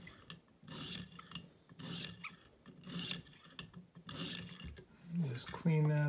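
A knife blade is honed on both sides to clear away the burr at the apex, giving repeated rasping strokes in a steady back-and-forth rhythm, close and fairly loud, with a brief tonal squeak near the end.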